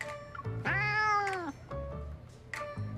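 A cat named Darling meows in a video game, several drawn-out, rising and falling cries close and loud, with short low grunts between them and no talking.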